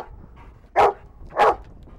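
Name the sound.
search and rescue dog barking during training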